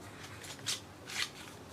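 Packaging for a Revolution Lip Lava liquid lipstick in the shade Forgiven is opened, with two short crinkly rustles close by and soft handling noise between, with no talking.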